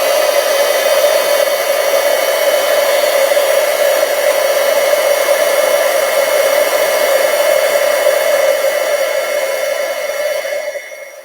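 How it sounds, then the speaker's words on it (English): A heat tool blows a steady loud whirring stream of hot air to melt embossing powder on a handmade card, running unbroken close by before starting to wind down at the end. "So here we go with our heat tool."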